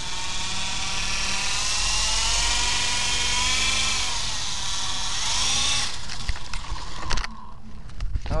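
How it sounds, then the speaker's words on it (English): A small motor whines at high pitch, steady then wavering, like a toy helicopter's rotor spinning nearby, with some clattering toward the end. "That's my new RC helicopter."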